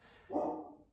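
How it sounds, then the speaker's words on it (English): One short bark from a pet dog indoors, a single quick woof heard fairly softly in a quiet room. "Sorry, that's my dog Raindrop"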